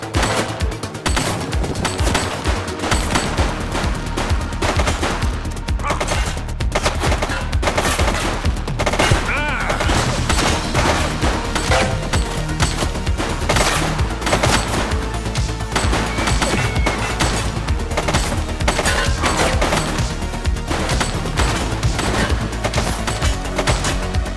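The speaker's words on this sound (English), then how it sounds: "She's shooting!" Gunfire from a suspect in the police video game The Precinct, heard as dense, loud, sustained shooting bursts with crashes over a constant game soundtrack, and a voice shouting briefly.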